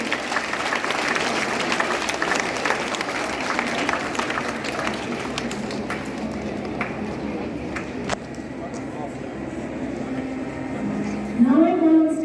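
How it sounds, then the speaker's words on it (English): A school assembly audience applauds two girls receiving black belts, a sustained crowd clapping that gradually thins and fades, with a voice starting to speak near the end. "A huge round of applause for these two girls."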